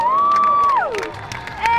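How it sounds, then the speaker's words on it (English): A street crowd in Paris cheers a juggler with a short whooping call that rises, holds and then slides down. Faint crowd noise sits underneath, and clapping is hard to pick out. "Give him a clap, give him a clap."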